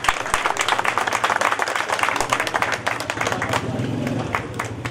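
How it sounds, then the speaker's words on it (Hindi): An audience at a gathering applauds warmly, a dense crowd of claps that is busy at first and then thins out, with a voice talking faintly underneath. "भरपूर तालियों में आपकी।"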